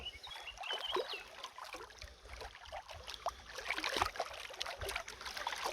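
Water splashes and sloshes in irregular bursts as someone wades through a shallow river, with a soft continuous trickle underneath, fairly quiet and close.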